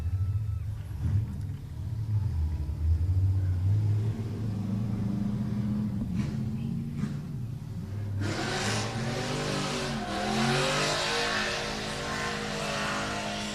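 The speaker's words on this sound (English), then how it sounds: "moving on to top 16 is Cole Buckmeyer in the RX-8" A Mazda RX-8 drift car at a drift competition revs hard, with a loud engine roar that rises and surges as it runs, and a brighter, harsher burst of noise in the second half.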